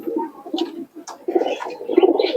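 Pakistani golden pigeons, including a young pair, coo in soft repeated bursts close by, with a few brighter chirps mixed in and no voices over them.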